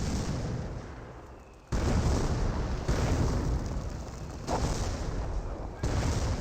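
Werfer rocket artillery barrage in the real-time strategy game Company of Heroes, a dense rumbling roar of explosions that kicks in sharply and surges in repeated waves, with battle noise continuing throughout.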